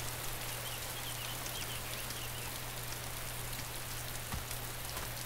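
Steady rain falling in the DayZ survival video game, a dense even hiss of drops with a constant low hum beneath, unchanging throughout and with no voices.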